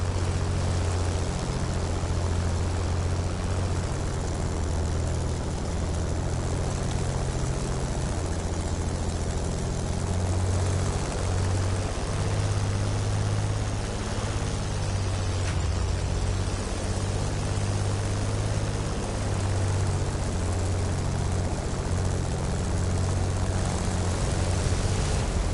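A propeller aircraft flies in the racing game The Crew: Motorfest, a steady loud droning engine hum with a low rumbling tone throughout, unbroken and without talk.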